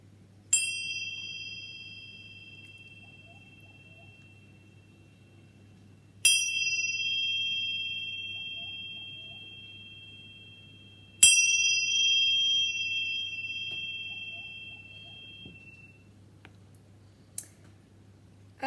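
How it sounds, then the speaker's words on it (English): Beautiful chimes struck three times at spaced intervals, each bright ringing strike sustaining and slowly fading, with a faint low hum underneath and no talking. "I'm going to clear our collective energy with these beautiful chimes."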